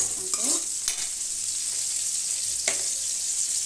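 Curry leaves and tomato fry in hot oil for a Telugu stuffed-eggplant curry, a steady close sizzle broken by a few sharp clinks of stirring, with no talking.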